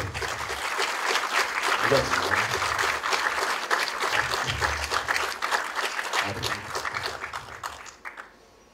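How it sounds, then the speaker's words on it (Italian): An audience at an awards event applauds the father of Elvis in sustained clapping that holds steady for about eight seconds and then fades, with some voices talking underneath. "un applauso al papà di Elvis"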